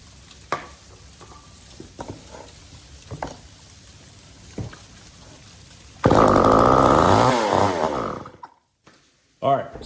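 A Poulan Pro S25 AV chainsaw engine fires on starting fluid, bursting into a loud, rough run with wavering revs for about two seconds before dying out; quieter handling noises and brief talk come before it.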